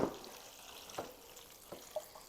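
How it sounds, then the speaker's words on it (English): Cold tap water runs over cucumbers being rinsed for old-fashioned bread and butter pickles, a faint, quiet trickle broken by a few small splashes and clinks. "I'm going to rinse these off. And use cold water,"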